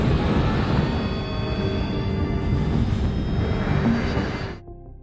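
An airplane on the ground just before takeoff gives a steady, close engine roar with a high whining hum layered over it, then cuts off sharply near the end.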